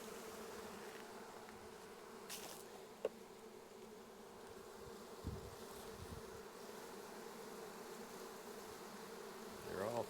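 Honey bees hum and fan steadily inside an open hive, a dense, even drone that holds throughout with a few brief louder buzzes of single bees passing close.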